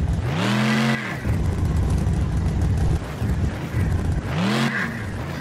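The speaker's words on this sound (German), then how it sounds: "Komm, wir fahren mal die Treppen hier runter mit dem Monster Truck" A monster truck in BeamNG.drive rolls down a flight of stairs, its engine droning steadily with two loud rising-and-falling revs at the start and end, plus rumbling mechanical noise in between.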